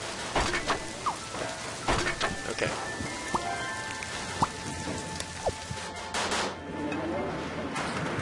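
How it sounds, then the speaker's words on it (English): Rain falling in the video game Scribblenauts Unlimited, a steady patter of drops hitting surfaces with scattered sharper taps and crackles, fairly close and continuous throughout. "Rain."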